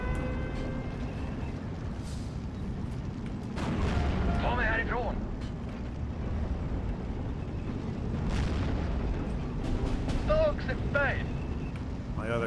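Booming cannon fire from a 17-pounder gun shooting at a Jagdpanzer in the World War II strategy game Steel Division 2, repeated blasts over a dense rumbling battlefield din, with a voice talking over it.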